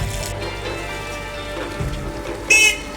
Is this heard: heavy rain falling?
yes